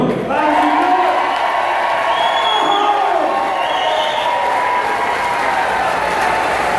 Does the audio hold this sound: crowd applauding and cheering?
yes